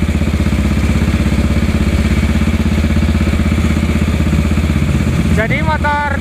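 A 1956 Norton ES2 500 cc single-cylinder motorcycle running near and loud, with a steady, even thumping idle throughout. Near the end a brief voice-like sound rises over the engine.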